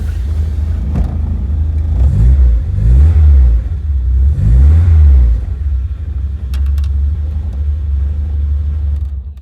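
A 1991 Vauxhall Nova GSi idles low on fuel, its engine loud and close, rumbling and chugging with an uneven surge that rises and falls a few times, and a faint higher whine shows up briefly near the end.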